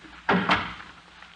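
A single door shuts with a soft thud and a quick second knock of the latch, close by, followed by a fading room tone.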